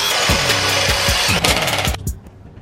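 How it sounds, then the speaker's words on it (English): A steady, grinding drill runs close by with a rhythmic chatter, boring a hole in a metal handlebar, then winds down and stops near the end. "So I'm drilling the same size hole."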